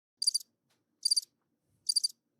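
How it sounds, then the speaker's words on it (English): Cricket chirps used as a sound effect: three short, high, trilling bursts spaced evenly about a second apart, isolated against dead silence. "Crickets."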